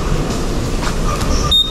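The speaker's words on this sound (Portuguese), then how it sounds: "Este aqui é o metrô, sem catraca." Subway train noise in a South Korean metro station: a steady rumbling rush of cars in motion with a brief high metallic squeal near the end, close and fairly loud, no talking.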